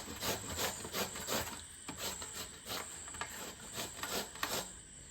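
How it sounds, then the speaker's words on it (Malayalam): A bottle gourd is grated by hand in a home kitchen, giving steady rhythmic rasping strokes about twice a second, close and clear, with no voices. "ചെരവക്കായ ചിരണ്ടി കഴിഞ്ഞിട്ടുണ്ട്"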